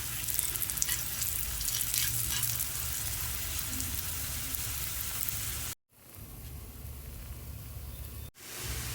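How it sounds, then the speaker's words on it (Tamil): Tapioca cutlets fry in hot oil on a tawa with a loud, dense, continuous sizzle that briefly cuts out twice before resuming, with no voices. "ஆல்ரெடி தவாவில் ஆயில் போட்டு வச்சுருக்கோம். ஸோ போட்டுக்கலாம்."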